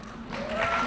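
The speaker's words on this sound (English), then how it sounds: "How about another hand for all of those honorees?" An audience at a sheriff's office annual awards ceremony applauds the honorees: a brief, dense wash of clapping that swells slightly toward the end.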